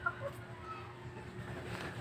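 Backyard chickens cluck softly and steadily at a moderate distance, with a faint hum of outdoor ambience underneath.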